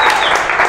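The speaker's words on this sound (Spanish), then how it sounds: "Por favor, un aplauso para Leonardo Villalobos." A brief burst of audience applause welcoming a guest on a talk show, dense steady clapping filling the short moment.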